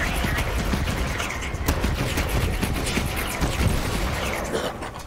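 Guns firing during a chaotic Borderlands 3 fight, a steady loud barrage of shots and blasts with little pause throughout.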